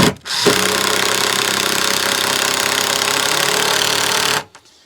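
An impact driver sinks a 3.5-inch Torx-head construction screw into the wood of a firewood stand, a loud rapid hammering rattle lasting about four seconds before cutting off abruptly.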